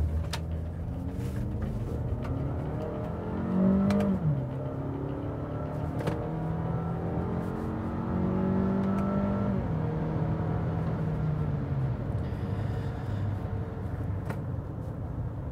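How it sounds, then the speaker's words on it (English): A 2017 Toyota RAV4 with an automatic transmission driving on the road, its engine rising and falling in pitch through several gear shifts, heard from inside the cabin over steady road noise. "Let's get on the road with the RAV4, shall we?"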